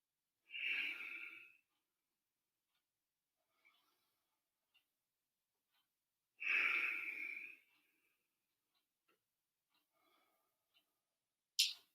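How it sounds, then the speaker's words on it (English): Deep, slow breaths during a seated yoga stretch with eagle arms: two long, airy exhales several seconds apart, close and quiet, in an otherwise silent room with a few tiny clicks. "Taking nice deep breaths here, just breathing into your back."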